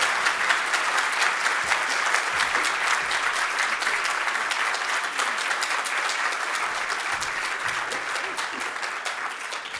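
Audience applause at a sold-out City Club of Cleveland forum welcoming speaker Tania Menesse, a dense, steady wash of many hands clapping throughout, loud and close, slowly tapering near the end with no talking.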